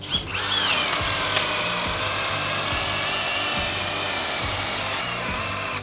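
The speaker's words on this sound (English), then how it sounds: "now the hole test for the drill driver" A cordless drill whines steadily at high speed, boring into material with a continuous strained buzz, close and loud, with faint low knocks underneath.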